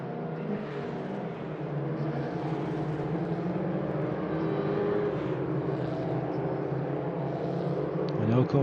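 Porsche 944 Cup race cars in the Raceroom racing sim at Donington, a sustained engine drone that swells and shifts as the cars run, with commentary spoken over it.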